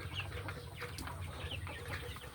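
Farm chickens cluck and chatter softly nearby, a scatter of short overlapping calls over a low background hum.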